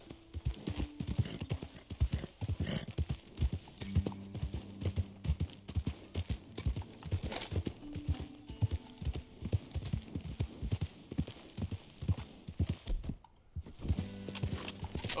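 Steady clip-clop of horse hooves trotting at a quick, even rhythm in Red Dead Redemption 2, with a low game-style hum and faint musical tones beneath; brief pause near the end.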